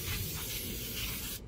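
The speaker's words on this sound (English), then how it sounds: "spray some brake clean and wipe off all of" A single continuous hiss of aerosol brake cleaner sprayed on a 2013 Audi A4's front brakes, close and steady, cutting off abruptly near the end.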